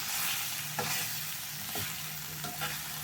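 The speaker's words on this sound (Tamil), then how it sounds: "நல்லா இதை அப்படியே வதக்கிட்டு" Kurma chili-powder spice paste sizzles and fries steadily in a hot pan, with a few scraping stirs of a spoon across the surface.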